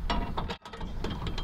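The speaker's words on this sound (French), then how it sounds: "on insère le tube carré, on aligne les trous et on vient insérer la poulie" A pulley being inserted into a steel square tube on a portable winch anchoring system, giving a brief series of close metallic clicks and scrapes.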